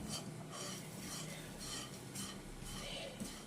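Granola is stirred in a pot on a gas stove, a faint, steady rasping scrape that repeats in rough strokes over a low background.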